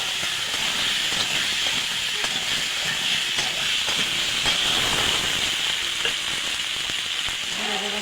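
Tomato and potato pieces frying in a pan of hot oil give off a steady, close sizzle and hiss that holds for the whole stretch, with small crackles and spatters rising and falling throughout.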